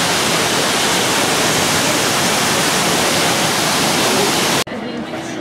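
Velika Slap, the big waterfall at Plitvice Lakes in Croatia, a loud, constant roar of falling water heard close up that cuts abruptly to a quieter, distant rush near the end.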